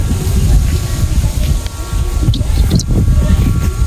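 Strong gusty wind buffets the microphone in a steady low roar while flying a kite outdoors, with brief rustling bursts near the end.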